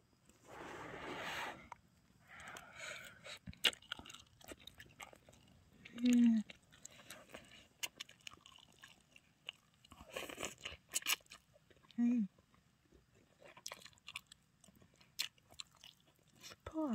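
Quiet, close crunching and chewing of ramen cooked with rice cakes in a spicy jjamppong-style broth, with soft bites and mouth sounds at irregular intervals.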